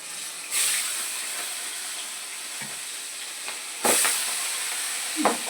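Jiol fish frying in hot oil in a kadai: a steady, bright sizzling hiss with scattered sharp spattering pops, swelling louder as more pieces hit the oil.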